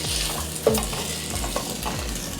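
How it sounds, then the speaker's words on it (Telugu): Masala cooks in oil in a pan for a mutton leg bone paya curry, giving a continuous close sizzle with a few soft stirring knocks. "ఒక 2-3 నిమిషాలు ఉడకనివ్వాలి ఆయిల్లో"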